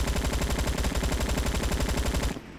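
Sustained full-auto AK47 fire in the Roblox shooter Bad Business, a loud rapid rattle of shots in a steady rhythm that runs for over two seconds before cutting off abruptly.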